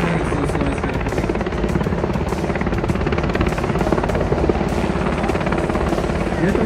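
A Slovak Air Force UH-60 military helicopter at an armed forces display, its rotor chop and turbine roar loud and steady throughout, close by and alone with no talk.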